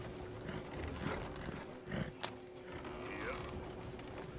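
Horse hooves clip-clopping in Red Dead Redemption 2, faint irregular hoof thuds with some creaking tack and a brief snort-like burst, low in level while someone talks.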